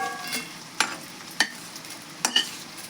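Oil sizzling in a pan as curry leaves fry for a North Karnataka spice masala, a steady soft crackle broken by four sharp clinks or scrapes of a utensil against the pan, close and alone.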